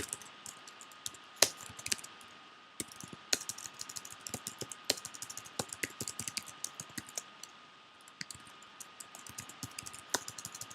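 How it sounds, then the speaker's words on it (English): Rapid typing on a computer keyboard, with steady bursts of light key clicks and a few sharper taps, close and fairly quiet, with no talking. "I'm going to type"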